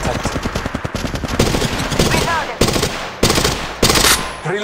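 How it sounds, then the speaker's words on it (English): Gunshots in the video game Apex Legends crackle as rapid automatic bursts, loud and close, and break into several quick volleys with brief gaps between them. "Incoming shots fired at me"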